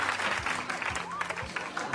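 Scattered clapping and crowd response from a comedy show's studio audience, patchy and uneven, with voices and laughter mixed in among the claps.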